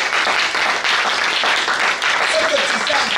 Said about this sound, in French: Alors, acclamez très fort pour notre Jésus.